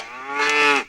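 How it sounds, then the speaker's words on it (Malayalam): A cow lets out a single close, loud moo, a short rising and swelling bellow that fades out within a second, with no other sound around it. "ആ അസത്ത് പശു എവിടെയെന്ന് നോക്കട്ടെ."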